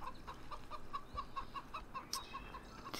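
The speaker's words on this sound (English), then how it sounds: "Alright, so there's our chicken pen." Chickens in a pen in Farming Simulator 15 cluck in a steady rapid series of short, evenly spaced notes, moderately loud over soft background hiss.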